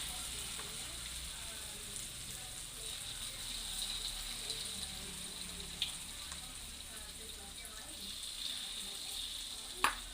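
Spinach and sweet corn fritters (bakwan) frying in hot oil, a steady soft sizzle running throughout, fairly faint, with a couple of brief clinks.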